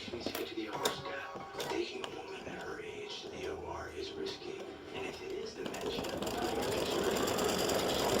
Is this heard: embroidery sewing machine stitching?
yes